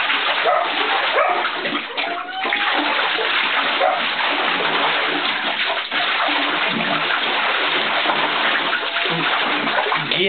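A pitbull in a bathtub barks and splashes at the water, with continuous loud splashing and sloshing throughout and a few brief barks mixed in. Close and busy, with no pauses.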